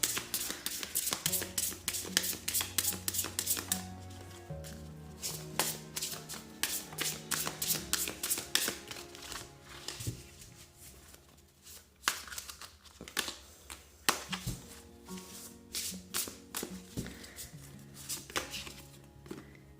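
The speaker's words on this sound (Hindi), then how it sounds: "I will shuffle it half" Tarot cards are shuffled by hand in a soft, repeated papery riffle, partly masked by steady background music.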